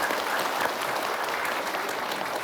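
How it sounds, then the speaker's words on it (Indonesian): Applause from an audience at an Islamic religious lecture, a continuous, even burst of many hands clapping close by, with no speech over it. "Tepuk tangan dulu untuk Bapak Ibu."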